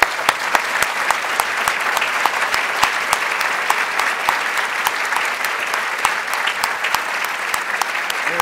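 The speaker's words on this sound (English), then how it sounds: "I think all of us deserve a big round of applause." An audience at a talk breaks into sustained applause, with dense, even clapping from many hands that carries on steadily from start to finish.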